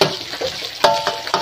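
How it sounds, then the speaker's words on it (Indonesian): Oil sizzles steadily in a pan as garlic and shallots are sautéed for stir-fried sweet mustard greens, with a few sharp utensil scrapes and stirring knocks cutting through the continuous frying hiss. "Jadi minyaknya ditumis-tumis seperti ini"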